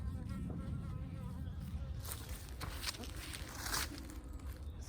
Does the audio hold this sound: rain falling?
no